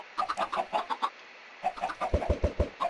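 Blocky Minecraft chickens cluck in a farm pen, a quick run of short clucks, a brief pause, then another cluster of sharper, louder clucks nearby.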